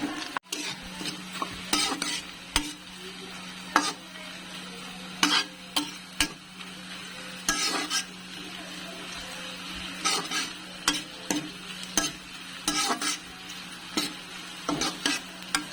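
Bay leaves and dried chillies fry in hot oil, with a constant sizzle and repeated sharp scrapes and taps of a spoon stirring in the pan, heard close up without any talking.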